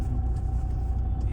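A car maneuvering into a parking spot near the Ambarnath Shiv temple, its engine rumbling low and steady at close range for a brief moment, with no voices over it.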